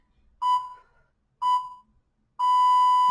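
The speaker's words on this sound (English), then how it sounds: "I can't see my timer, but hopefully it's fixing to buzz." A workout interval timer in a university total body conditioning class sounds two short electronic beeps followed by one long sustained tone, clear and loud in an otherwise quiet room.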